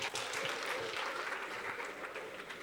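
A faint audience bursts into brief, steady applause, many hands clapping in a continuous patter from a distance, with no voices standing out.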